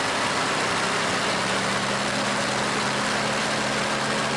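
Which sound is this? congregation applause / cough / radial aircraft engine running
radial aircraft engine running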